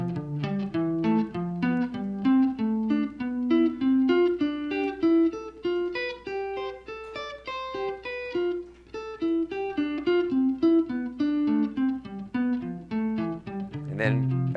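A guitar plays a quick picked sequence in a major key, starting on a high note and then a fourth below, with a continuous even run of notes alone and no talk.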